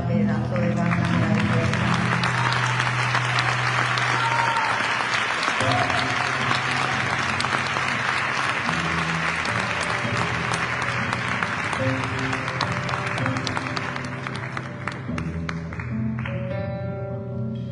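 A concert audience at a copla and flamenco show applauds the band in a long, dense, steady burst, with a sustained musical tone beneath and a voice rising near the end as the clapping thins.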